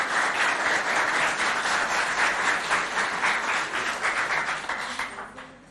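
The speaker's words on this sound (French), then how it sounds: "Voilà, on les applaudit." An audience at a school competition event applauds school representatives with steady, loud clapping that fades out over the last second.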